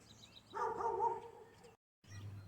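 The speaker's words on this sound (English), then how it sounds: "Sorry about the barking dog." A dog barks once in a single drawn-out, fairly faint woof nearby, then the sound cuts out briefly before low room noise returns.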